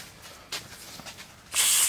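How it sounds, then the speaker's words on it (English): Cleaner is sprayed onto the seats of a Mustang coupe: a couple of short, close spritzes, then a longer, louder hissing burst at the end. "Got a nice spray pattern."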